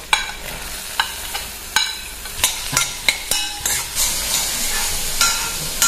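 Cubed green, yellow and red capsicum with carrots and onions stir-fried in a pan, with repeated sharp spatula scrapes and clacks over a steady sizzle, close and fairly loud, with no talking.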